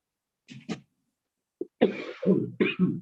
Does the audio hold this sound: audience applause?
no